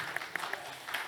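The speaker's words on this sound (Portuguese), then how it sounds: "nós já vamos passar palmas para eles também" A church congregation at Sunday Bible school claps for two members, a short burst of applause with a few sharper claps standing out under a faint voice.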